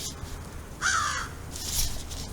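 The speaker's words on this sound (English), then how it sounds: "Good to see you, Mr. Crow." One clear, raspy crow caw rings out nearby, followed a moment later by a fainter, softer call against a quiet outdoor backdrop.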